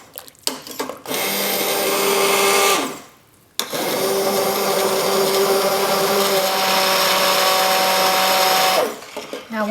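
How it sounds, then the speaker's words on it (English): Stick blender whirring through butternut squash soup, a loud steady motor whine running in two long bursts with a short pause between, starting and stopping abruptly up close. "puree the soup with a stick blender"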